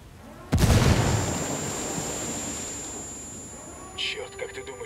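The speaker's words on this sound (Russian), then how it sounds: "Взрыв привлек их внимание." A grenade explosion in the video game Ghost Recon Wildlands, a sudden loud boom that rolls off into a long fading rumble, followed by a brief faint clatter.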